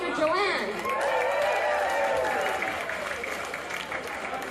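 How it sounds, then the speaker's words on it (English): An audience at a live painting event applauds steadily while a host speaks over the clapping. "One more big round of applause for Joanne."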